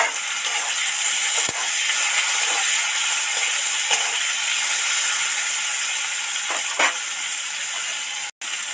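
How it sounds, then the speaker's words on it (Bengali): Potato pieces sizzle in hot oil with a little salt in a heated kadai, a steady close hiss with a few faint clicks and one sharp knock near the end. "কড়া তো গরম হয়ে গেছে, এই লবণ আর তেলের মধ্যে আলু টুকরো কটা উঠিয়ে দিলাম।"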